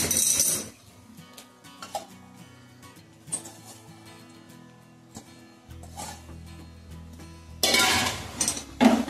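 Vegetables stirred into golden besan and onions in a pan for chivdichi bhaji, with a few metallic clinks and scrapes of a spoon against the pan, brief and close, louder clattering bursts at the start and end, no voices.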